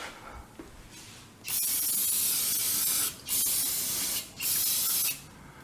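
Three bursts of aerosol brake cleaner spray hiss loudly and close by against car brakes, each lasting over a second, with short pauses between them.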